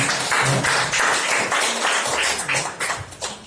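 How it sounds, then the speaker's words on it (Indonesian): Loud, close applause at a PGRI teachers' branch meeting in Medan Satria after a signing, a burst of group clapping in uneven waves that tapers off near the end. "Selesai, tepuk tangan semuanya."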